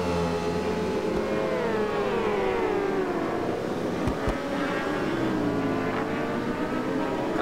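Ducati motorcycle engine in the racing game RiMS Racing holds a steady, loud high-pitched whine, its pitch sliding up and down as the bike revs through corners, with no talk.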